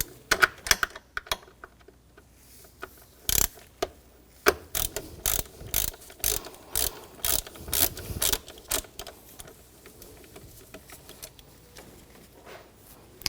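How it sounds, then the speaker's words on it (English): A ratchet fitted with a T30 socket loosens a screw on a 2004-2009 Audi A4 Quattro 2.0L during a knock sensor replacement, giving rapid close clicking bursts in a rhythmic series of short pulls, with no voices. "T30 socket, take this screw out."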